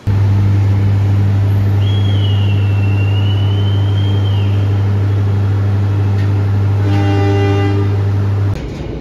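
A train pulls out of Kroya station on an Indonesian economy-class service, a low steady rumble and drone under a long sustained horn blast, with a second brief harmonic horn tone near the end before the noise cuts off.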